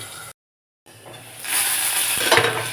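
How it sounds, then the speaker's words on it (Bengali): Potatoes frying in a pan for an egg dish, a steady sizzle broken by a brief silent gap, then swelling louder with stirring scrapes near the end. "আলু প্রায় ভাজা হয়ে এসেছে"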